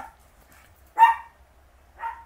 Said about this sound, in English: And the puppies barking crazy again.